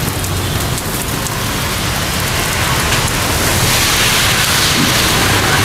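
Steady, heavy rain pours on a surface throughout, a dense, even hiss with no break, loud and close, with no one talking.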